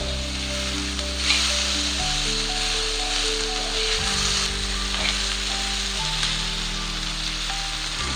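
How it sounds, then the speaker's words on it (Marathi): Onion and tomato fry in a pan for a Maharashtrian chicken rassa, a strong, steady sizzle heard up close, with occasional spatula scrapes and a low, hum-like tone underneath. "टोमॅटो सुद्धा आपल्याला याच्यामध्ये मस्त असा व्यवस्थित परतून घ्यायचा आहे।"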